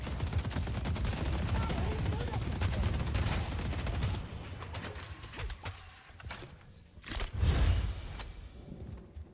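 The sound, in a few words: turret gunfire in video game Mecha Break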